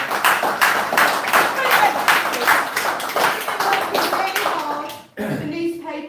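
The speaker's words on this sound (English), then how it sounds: "we have to give a big clap to Jess." An audience at a public meeting about landfill issues claps in a brisk, fairly close burst of applause lasting about five seconds, then voices talk briefly as it stops.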